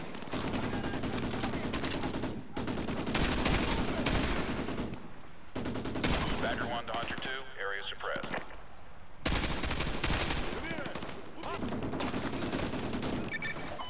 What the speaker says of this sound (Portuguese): Eu vou atirar neles também.